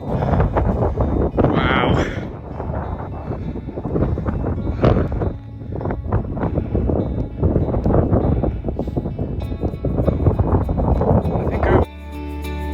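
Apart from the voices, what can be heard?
wind blowing at a boulder field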